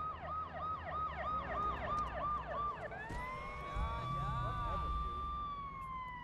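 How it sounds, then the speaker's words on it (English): An ambulance siren in the video game Watch Dogs cycles rapidly, then shifts to a long rising and falling wail, loud and near, with engine rumble underneath. "Ambulance."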